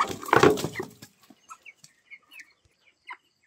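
Broiler chickens, about three weeks old, give several short, scattered clucks during weighing, following a louder burst of activity at the start; the calls are moderately close and there is no talk.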